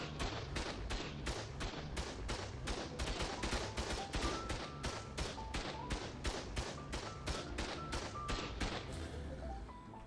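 Heavy turrets fire on a base in ARK, a fast, regular stream of sharp thudding shots repeating for about ten seconds, fairly quiet and with no talk over it.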